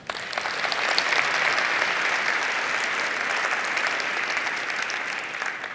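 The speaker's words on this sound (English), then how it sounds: "a quick round of applause for all the people doing like super hard work to make this happen" Sustained applause from a conference keynote audience, steady and broad across the whole stretch, a crowd clapping together with no voices over it.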